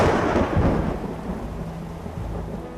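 Loud rumbling thunder rolls over heavy torrential rain upstream in a pristine rainforest nature reserve in Indonesia, a steady dense downpour hissing throughout with no voices.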